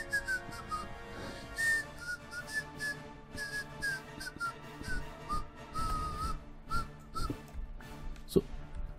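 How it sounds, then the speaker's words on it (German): A person whistles a wandering tune while playing Minecraft, thin melodic notes rising and falling over several seconds amid soft clicks and game noises, with a sharp thump near the end. "Genau, ich pfeife einfach währenddessen."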